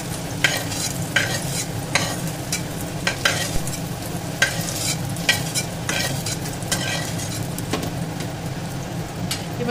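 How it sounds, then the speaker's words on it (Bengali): Potatoes fry in hot oil for Kolkata-style aloo dum, a steady sizzle broken by repeated scraping clinks of a spatula stirring the pan, with no talking. "আমি আলুগুলো তেলেতে ভেজে নেব, একটু লাল লাল করে ভেজে তুলে নেব"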